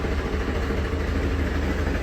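A steady, low engine rumble idles without change throughout, close by, with no voices.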